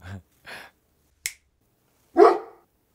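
A few short, separate dog barks with pauses between them, the last one louder and fuller, with no other sound around them.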